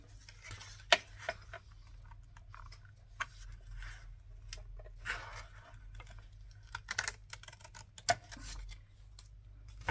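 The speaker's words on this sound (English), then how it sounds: "I'm going to cut that. That needs to come off." Scissors snip through a paper file folder being cut into a journal cover, producing sparse, crisp close-up clicks and crunches at an uneven pace over a quiet room.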